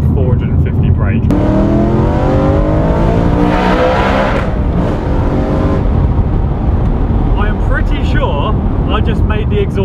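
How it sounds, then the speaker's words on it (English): A loud BMW M3 with its catalytic converters removed revs hard and accelerates close by, its exhaust note rising and roaring with rough crackles, with a voice talking over it. "I just made the exhaust crack as well"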